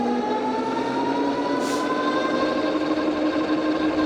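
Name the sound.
Tuttio ICT electric bike motor running on throttle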